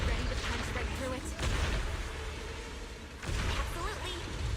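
Rapid, heavy explosions in a video game battle, dense booming bursts that rumble continuously with brief dips, alongside voices and game effects.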